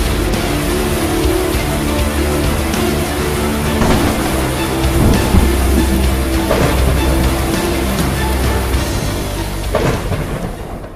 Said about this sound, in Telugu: ఉరుములు మెరుపులతో పాటు వర్షం వచ్చినప్పుడు కలిగే ఉత్పాతమే పిడుగుపాటు.